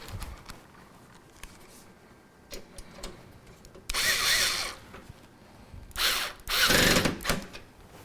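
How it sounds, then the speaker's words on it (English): Screws being driven in with a power screwdriver to secure a graphics card inside a PC: two short, loud whirring bursts, with quieter handling clicks and rustles in between. "we can put the screws back in to secure the card into position"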